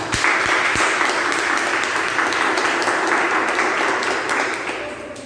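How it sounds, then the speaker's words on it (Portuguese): A church congregation applauds during a sermon, with sustained dense clapping throughout and a faint hum underneath, tapering slightly at the end. "pode aplaudir a poderosa palavra de Deus"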